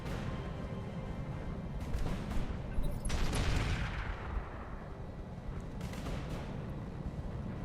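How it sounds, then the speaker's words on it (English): Turret-mounted thumper artillery firing in the mech combat game Roguetech, heavy booming blasts and rumbling impacts that swell mid-clip, with a layered battle din of gunfire and explosions continuing throughout. "More damage on the urban mech from the thumper turret."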